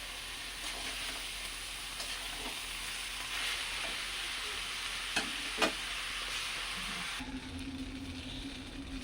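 Gobindobhog rice stirred and fried in a pan for pulao, a steady close sizzle with scraping stirs, a couple of sharper clinks midway, and the frying tone shifts near the end.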